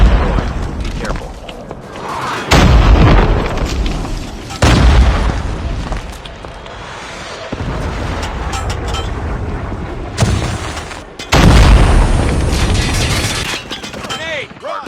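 Loud booming grenade explosions and gunfire in Call of Duty Mobile, heavy blasts recurring every few seconds over a continuous rumble of combat, with game voice callouts.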